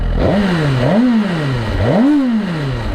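A 2023 Suzuki GSX-R1000R engine revved repeatedly, three rising and falling swells of throttle over a steady loud idle roar, close by with no talk.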